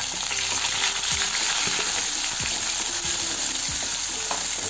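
Onion fries in hot oil with mustard seeds and cumin, producing a loud, even close-up sizzle broken by occasional sharp spits and pops.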